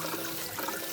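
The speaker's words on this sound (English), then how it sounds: "drain the pasta and rinse it well in cold water" Cold tap water pours and splashes over cooked pasta draining in a kitchen sink, a steady close rush of running water for about a second.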